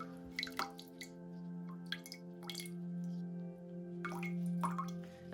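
Water drips out of a hanging hoya pot after watering, a few soft irregular drips over a steady low hum, quiet and close.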